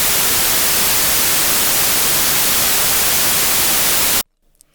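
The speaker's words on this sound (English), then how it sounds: "this is only white noise." A 24-bit, 48 kHz white noise test signal plays as a loud, flat, continuous hiss that cuts off abruptly near the end, leaving near silence.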